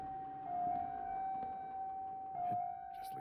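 A steady wailing siren drones through the horror game Reveil, holding one pitch with slight wobbles, moderately loud and unbroken, with faint thumps beneath it.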